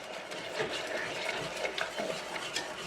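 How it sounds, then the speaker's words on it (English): A spoon scrapes and swirls through jarred peaches in a pot, giving a soft, continuous churning with faint wet scraping, close and moderately quiet. "And you need to stir that around"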